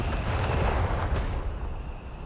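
Gunfire and artillery from a Company of Heroes 3 battle between German Wehrmacht and British forces: a dense, loud, continuous barrage of overlapping shots and booming blasts with no pauses, filling the whole stretch.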